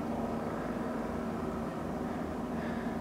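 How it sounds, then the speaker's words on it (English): Steady droning rotor and engine noise from two police helicopters overhead in a gorge, a continuous low hum with no breaks, moderately distant. "there are those two helicopters"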